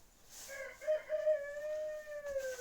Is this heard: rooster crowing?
yes